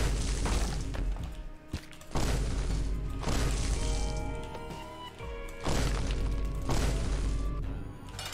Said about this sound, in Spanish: Doble explosión, creo.